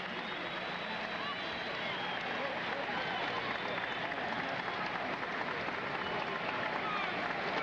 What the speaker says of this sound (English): Crowd is applauding.